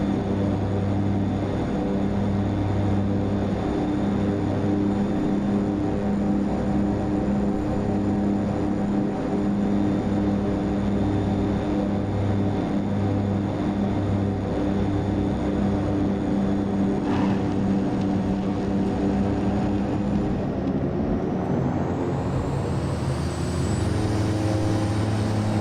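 Twin Otter turboprop engines idling in a flight simulator game, a loud steady droning hum with a constant low throb, unchanging for a long stretch before the tone shifts and rises near the end, with no voices.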